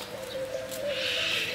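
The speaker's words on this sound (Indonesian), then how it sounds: "KLB Garden ni dia kebanyakan dia ada burung" Birds call in a mini zoo garden in Borneo, a soft cooing tone running steadily with faint chirps and a brighter rustle rising toward the end.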